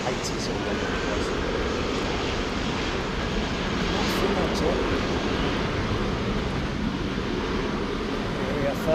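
An Iberia airliner on runway 09R at London Heathrow, a broad steady roar of jet engines filling the whole stretch with wind-like rumble, loud and constant, with no clear rise or fade.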